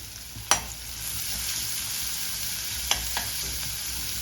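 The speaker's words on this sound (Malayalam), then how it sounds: "സവാള ഇട്ട് കൊടുത്തിട്ടുണ്ട്. ഇതൊന്ന് വഴറ്റാം." Chopped onion and green chili sautéing in a pan, a steady soft sizzle with a couple of sharp scrapes or knocks from a stirring spoon.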